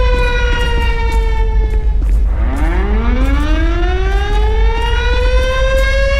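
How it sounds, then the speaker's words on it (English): A tornado civil defense siren from the LSPDFR police game wails loud and constant, its steady tone sliding down, dipping, then sweeping back up into a rising howl. "I actually like it that the sirens are consistent, constant"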